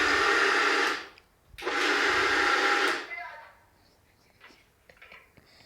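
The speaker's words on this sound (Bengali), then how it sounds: "তো এই তো ব্লেন্ড করা হয়ে গেছে আমার চালের গুঁড়িটা।" A kitchen blender grinds soaked rice into flour for chitoi pitha, running loud and steady in two bursts with a short pause between, then switching off to quiet handling noises.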